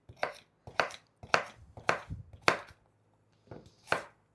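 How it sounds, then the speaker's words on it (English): A knife chops through small vegetables on a cutting board, halving each at the top, with six separate sharp cuts at an irregular, unhurried pace, close and fairly clear with brief quiet gaps between. "sometimes I just kind of cut them in half at the top so they will cook a little bit better"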